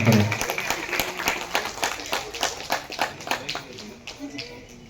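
Festival audience in Odisha clapping, a loud burst at first that settles into distinct rhythmic claps and then gradually fades toward the end.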